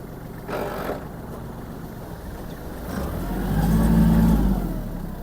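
Engine of a Kubota GL-280 Japanese mini tractor runs steadily and close, swelling louder and deeper through the middle as gears are shifted up, then easing slightly.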